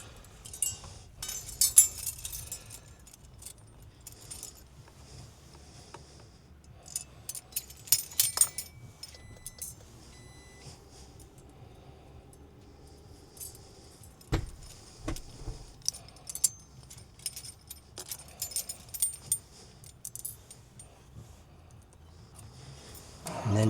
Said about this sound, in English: And then just use your 8mm spanners to tighten them up.